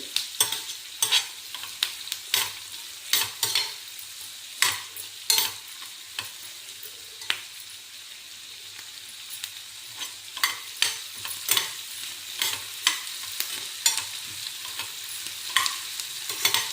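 Onions fry in oil in a pan, a constant hiss of sizzling beneath frequent crisp spatula scrapes and clacks that come in quick irregular bursts, close by and with no talking.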